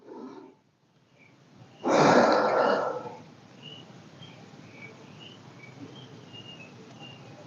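A person doing a facial exercise takes one deep, audible breath in, a short rushing inhale preceded by a brief softer breath, then quiet room tone.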